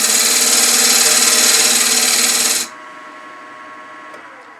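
A wood lathe cuts a small, shallow recess into a turned jewelry box: a loud, steady broadband whir of the tool on spinning wood that stops abruptly partway through, leaving a quiet hum of the still-running machine.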